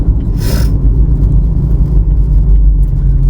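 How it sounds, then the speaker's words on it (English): Jeep 4.0 engine running on a short drive after an idle air controller replacement, a loud steady low rumble and whir heard from inside the vehicle with a brief hiss early on, no talk. "So just take it for a little drive and see what happens."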